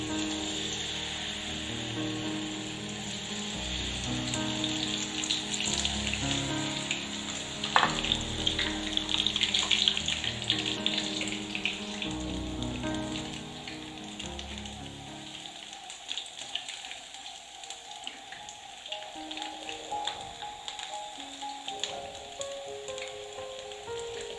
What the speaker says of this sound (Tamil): எண்ணெய் ஓரளவுக்கு நல்லா சூடாயிடுச்சு. இப்போ நம்ம பக்கோடா போடுற மாதிரி போட்டு எடுத்துடலாம்.